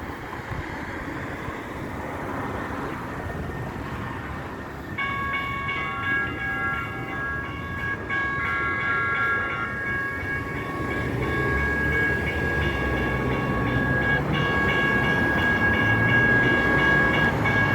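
Train at a local railway station, a steady rumble of rolling wagons with high, sustained metallic squeal or whistle tones that join partway through and grow louder toward the end, no voices.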